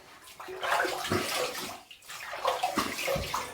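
Running water splashes as a safety razor is rinsed, a close, steady gush with slight sloshing shifts, heard alone.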